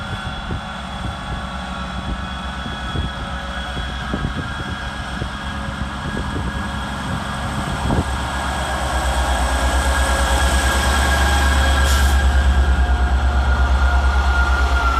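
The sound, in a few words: HST train 43175 arriving at Montrose station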